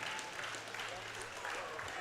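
Steady applause from a crowd at a powerlifting championship, the World Open Equipped Powerlifting Championships 2021, men's 105 kg class, continuing evenly throughout with a commentator talking over it.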